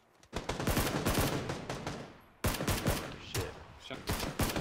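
M249 machine gun firing in a video game, two long close bursts of rapid automatic fire separated by a brief pause, with a short final burst and a player's voice briefly heard.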